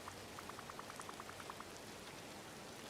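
Rain patters steadily in the Disney Dreamlight Valley video game, a soft even hiss with a run of small tapping drops early on and no talk.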